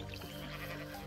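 A sheep in Minecraft bleats in one sustained, wavering call that is fairly quiet but fills the whole short moment, with no talk over it.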